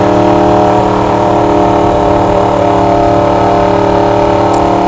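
A Kawasaki Ninja 1000 or Yamaha R1 motorcycle engine runs loud and close with a steady, droning rumble, its pitch holding constant throughout without a break or any voices.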